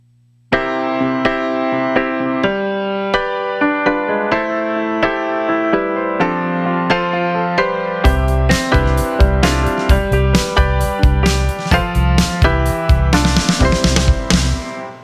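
A pop rock 1-5-6-4 chord progression played on an iPad, sustained keyboard chords that swell into a fuller backing with punchy bass and drums partway through, loud and close with no voices.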